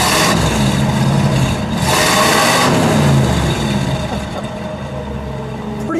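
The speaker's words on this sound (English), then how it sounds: "One more rev, please." A 1954 Buick Skylark convertible's 322 cubic inch engine revs up loud and close, holding a rumbling high rev before easing back toward idle.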